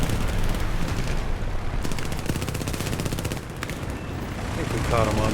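Rapid machine gun bursts from a P-26A-34 fighter plane in War Thunder air arcade combat, loud sustained rattling fire with short pauses, layered over engine drone and a voice talking.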